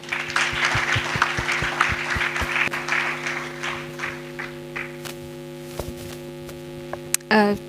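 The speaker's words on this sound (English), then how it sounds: "A round of applause for her." A crowd at an economic summit claps in a room, strongest at first and then thinning to scattered claps, over a steady electrical hum.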